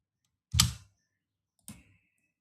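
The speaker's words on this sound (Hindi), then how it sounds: "यहाँ कुछ गड़बड़ क्लिक हो रहा है।" Two quiet, crisp computer mouse clicks spaced about a second apart while drafting structural plans in CAD software, with nothing else audible around them.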